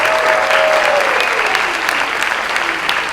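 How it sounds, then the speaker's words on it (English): Audience applause at a seniors' talent show in Chattanooga, a steady, dense wash of clapping from a full crowd that holds level for about three seconds with no voices over it. "Big round of applause for everybody tonight."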